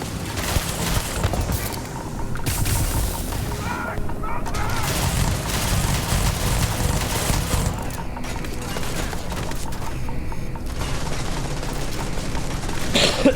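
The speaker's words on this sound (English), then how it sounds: "What rounds is this firing?" Heavy gunfire from a powerful weapon in the Starfield video game, a dense, loud continuous barrage of rapid shots and booms with game sound effects layered over it.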